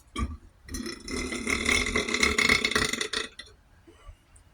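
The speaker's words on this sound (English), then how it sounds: "those are good burps" A long, loud burp from someone eating eggs, rice, bitter melon and chilies during a mukbang, rumbling for about three seconds close to the mic and then trailing off into quiet.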